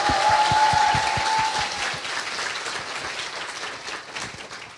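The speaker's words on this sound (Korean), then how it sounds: "박수 부탁드립니다." An audience at a Korean talk-show lecture applauds steadily, dense clapping that is loud at first and gradually fades over a few seconds, with no talking.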